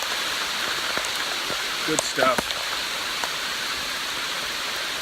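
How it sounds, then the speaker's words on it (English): Heavy rain pours steadily onto a waterlogged hiking trail, a constant hiss with a brief spoken remark in the middle. "It is absolutely pouring down rain."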